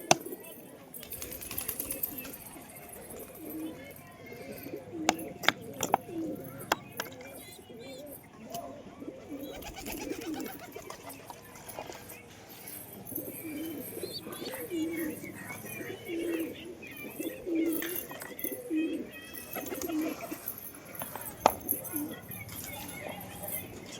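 Pigeons coo softly and repeatedly in a loft while a chick is hand-fed with chickpea feed, with a person talking over the bird sounds and occasional small clatters.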